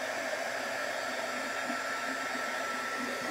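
A hair dryer blows steadily on wet craft paint on a rustic wooden birdhouse, a continuous even whoosh that holds at one level throughout, up close and alone with no talking.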